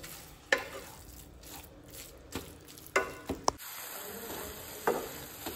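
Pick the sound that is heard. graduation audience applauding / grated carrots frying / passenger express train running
grated carrots frying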